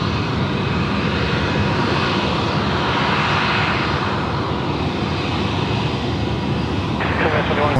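Airbus A321 airliner taxiing at Sydney Airport, a steady loud engine roar with a faint high whine, rising and falling slightly as it rolls past, with people talking over it.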